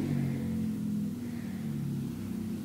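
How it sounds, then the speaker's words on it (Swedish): A car drives by outside on a trip to grandmother's near Köping, a steady low engine rumble with a gentle swell, fairly close and heard alone. "hörde du bilen utanför?"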